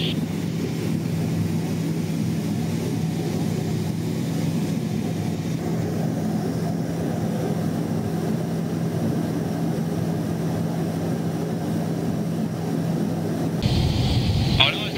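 A small propeller airplane banks through a turn over the sea, its steady engine drone and low cabin hum filling the whole stretch, loud and close, with a brief brighter burst near the end.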